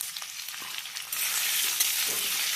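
Potatoes and grated tomato sizzle in a hot pan while being stirred, a steady frying hiss that grows louder partway through, with faint scraping from the spoon and no voices.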